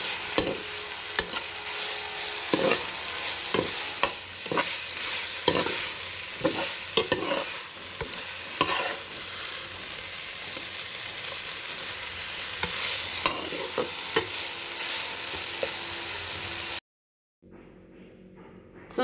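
Kashi halwa with almonds stirred in ghee, repeated close scraping strokes of a spoon over a soft sizzle, then a short silence near the end.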